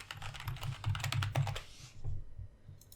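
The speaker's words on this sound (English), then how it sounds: "Oh, if I can type that right." Rapid, close keystrokes on a computer keyboard clatter steadily for about two seconds, then trail off into a few scattered taps and near silence.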